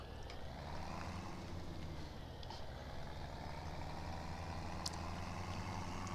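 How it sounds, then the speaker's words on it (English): A tractor engine in the Farming Simulator 17 game drones steadily with a low rumble and faint higher whine, continuous and fairly even with no talk over it. "Look at that tractor"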